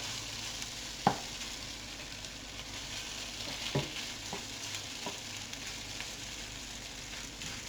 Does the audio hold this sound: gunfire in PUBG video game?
no